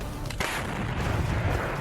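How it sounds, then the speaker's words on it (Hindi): A 2S7 Malka self-propelled artillery gun fires a shell, a heavy distant boom followed by a rumbling roll that fills the short stretch. "इस दौरान रूसी सेना ने एक के बाद एक कई गोले टारगेट की तरफ दाग दिए"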